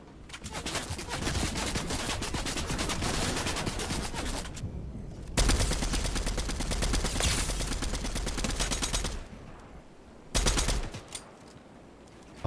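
Rapid bursts of automatic gunfire in Fortnite, long sustained volleys broken by brief pauses, then a short final burst.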